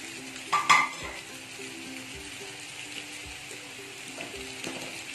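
Grated coconut drops into frying tapioca thoran in a pan, giving a brief clatter followed by a steady soft sizzle and occasional stirring scrapes, close and fairly quiet.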